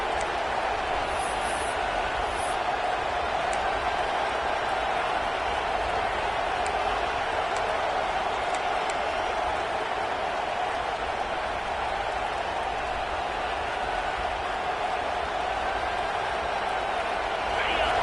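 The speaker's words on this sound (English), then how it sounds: "It's early, but this crowd is fired up. Listen to this noise here." A large college football stadium crowd roars continuously, a dense, steady wall of cheering and voices that holds at the same level throughout.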